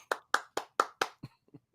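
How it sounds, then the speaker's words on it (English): Hands clapping at a steady pace, with five sharp, close claps followed by two softer, quieter ones as the clapping tails off, with no talk. "Clap it up."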